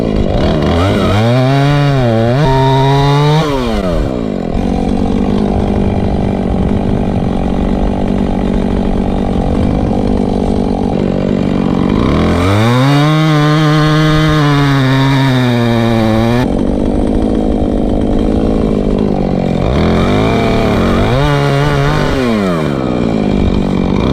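A chainsaw cuts up a log lying on the ground in the woods, running loud and close with no talk, its engine surging in three long revving bursts and dropping back between cuts.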